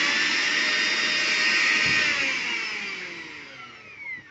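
Electric mixer grinder running at high speed, a loud steady high-pitched whine with a broad roar that slowly winds down and fades near the end, no voices.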